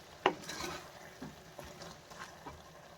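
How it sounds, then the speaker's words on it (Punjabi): Chicken being stirred and mixed in a pot without oil or ghee: soft, intermittent spoon scrapes and a few light metallic clinks, quiet and close, with no talking. "ਇਹਨੂੰ ਮਿਕਸ ਕਰਕੇ ਚੰਗੀ ਤਰ੍ਹਾਂ ਨੂੰ ਆਪਾਂ ਦੇਖੋ ਮਿਕਸ ਕਰ ਲਿਆ"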